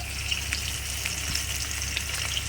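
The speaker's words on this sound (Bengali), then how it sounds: "এদিকে মাছ ভাজাটা বসে দিয়েছি" Fish sizzles steadily in hot oil in a pan, a continuous close crackling fry with occasional sharper pops and no voices.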